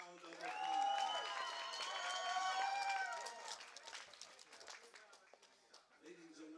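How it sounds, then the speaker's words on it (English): A crowd at an MMA fight applauds and cheers both fighters after three rounds, the clapping building under a loud announcer's amplified voice and continuing more raggedly as he talks. "let's give both fighters a big round of applause"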